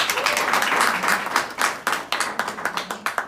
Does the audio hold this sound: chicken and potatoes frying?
no